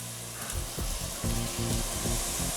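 Beef and its juices hitting hot vindaloo paste in a pressure cooker, a brief, close and loud sizzle with a surge as the meat goes in.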